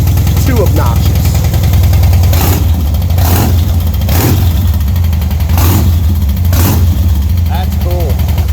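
A 2008 Harley-Davidson FXDC Dyna Superglide Custom V-twin idles with a deep, loud lumpy throb and is blipped several times into sharp rising revs, with someone talking over it.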